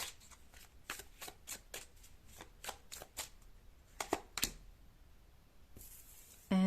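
Tarot cards being shuffled by hand, a series of soft, evenly spaced riffles and slaps close up, ending with a brief quiet pause and a sudden rustle.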